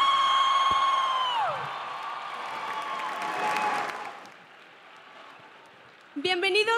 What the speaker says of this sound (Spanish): ¡Que se escuche fuerte el aplauso para Ciudad de los